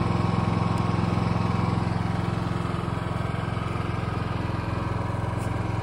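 A 2021 Covered Wagon food trailer's engine idles steadily just after starting, a close, even mechanical putter with a constant low hum and no other sounds over it.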